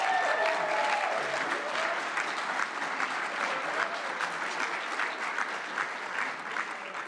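Sustained applause from a large crowd at a civic leadership academy ceremony, loud and even, tapering slightly toward the end with faint voices mixed in.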